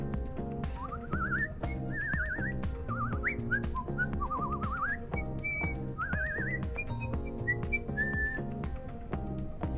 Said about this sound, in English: I can whistle so well that people often think I'm a Disney princess when I'm whistling